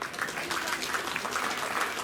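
A crowd claps in a sustained round of applause at a youth sheep show at the Lycoming County Fair, a dense steady patter heard at moderate distance without a break.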